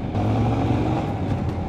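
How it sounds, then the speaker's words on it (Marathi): A car engine labours steadily as it climbs a mountain road at high altitude, a continuous low drone that stays close and loud throughout. "खिटखिट करते. वरती चढायला पावर नाही घेत आहे बरोबर."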